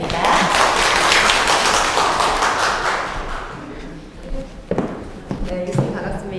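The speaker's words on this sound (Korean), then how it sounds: "큰 박수 부탁드립니다" Audience clapping at a public science lecture by a Kangwon National University professor swells loudly, then fades away, giving way to a person speaking with scattered taps and thumps.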